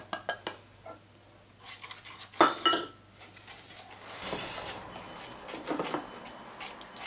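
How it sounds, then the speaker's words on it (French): Sugar being whisked in a bowl for a raspberry and passion fruit tart: a few clinks of utensil on the bowl, then a steady scraping, rasping stir that continues close up without speech. "On mélange bien comme ceci pendant environ 30 secondes."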